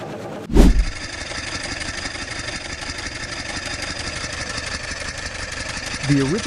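An antique Fairbanks-Morse engine runs at a steady idle with a low, even mechanical drone, after a brief loud burst near the start and a slight swell at the end.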